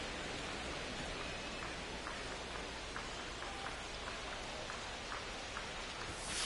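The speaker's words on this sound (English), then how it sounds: "This rain is not letting up." Steady rain falls on a baseball stadium in the video game MLB 25, a dense, even hiss that fills the whole scene with faint ticking drops, loud and constant throughout.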